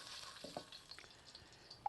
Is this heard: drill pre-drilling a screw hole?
no